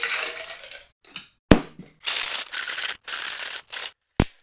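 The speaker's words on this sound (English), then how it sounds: "Let's add ice and shake for 20 seconds." Ice rattles hard inside a cocktail shaker while a Planter's Punch is mixed, coming as several loud bursts of clattering, crunching shakes split by short pauses and sharp knocks, with no voices.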